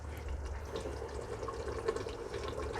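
Water poured into a pressure cooker while making mutton biryani, a continuous soft splashing and trickling stream lasting under three seconds, fairly close and moderately quiet.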